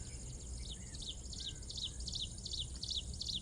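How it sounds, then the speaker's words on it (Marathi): Birds chirp in a quiet forest, their repeated high, quick notes coming at a steady pace. The calls stay faint and distant above a soft, low background hum, and no voices can be heard. "इथे वातावरण एवढं शांत आहे आणि फक्त पक्ष्यांचा आवाज येतो"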